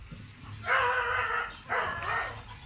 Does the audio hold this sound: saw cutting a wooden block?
no